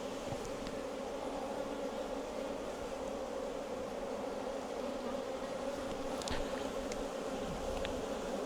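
A dense, steady drone from huge numbers of honey bees buzzing around a hive, continuous and even throughout, with a few brief closer buzzes passing by.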